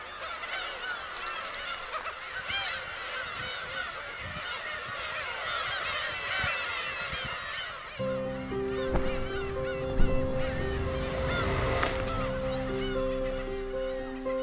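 Young seagulls on Gyeokryeolbiyeoldo, a remote island in Korea's West Sea, give repeated honking, squealing calls, several birds nearby overlapping, with a sustained musical tone entering halfway.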